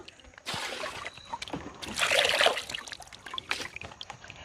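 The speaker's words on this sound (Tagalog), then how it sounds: "Running water naman to." Running water from a pipe in a mountain setting trickles and splashes close by in uneven, intermittent bursts, with a louder gush in the middle.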